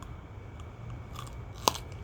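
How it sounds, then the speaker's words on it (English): A single crisp crunch as teeth bite into a Flamin' Rippa chili pepper, up close and short against a quiet background. "Good crunch."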